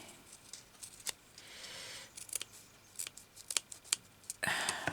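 Scissors snip through paper pieces folded together for a small dress ornament, a string of sharp, close cuts spaced irregularly, ending in a longer louder rustle, with no talking.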